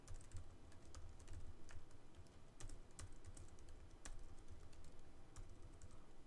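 Fingers type rapidly on a computer keyboard, producing quiet, dense clicking with irregular bursts of louder keystrokes and no speech.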